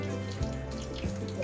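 Tap water runs steadily into a kitchen sink while a handful of shallots and garlic is washed, with a couple of soft splashes from handling, and no talk.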